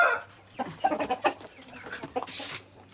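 Chickens cluck in quick, close bursts, with a rooster's voice rising briefly near the end over a low steady hum and light background noise.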